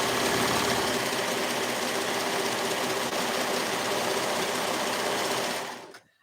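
A sewing machine stitching a cardigan runs in a continuous fast mechanical whir with rapid needle chatter, close and steady, then stops near the end.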